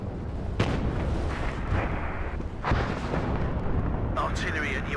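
Artillery fire in the WARNO wargame: several loud booms stand out near the one-second and nearly three-second marks, set within steady dense battlefield noise, with radio-style unit voice lines near the end.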